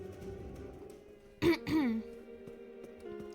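During a spooky online horror game session, a person clears their throat and gives a short cough: two quick, close bursts in the middle, with quiet game ambience and hum before and after.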